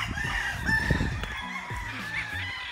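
A rooster crows among clucking and other fowl calls nearby, in a busy game farm with overlapping bird sounds.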